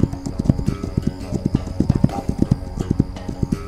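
Horse hooves clip-clop in a fast galloping rhythm as a rider charges across the ground in the video game This Land Is My Land, close and prominent.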